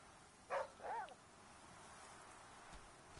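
Aesop, a dog in the survival game The Flame in the Flood, gives two short barks in quick succession over a soft, steady ambient wash, then the scene goes quiet.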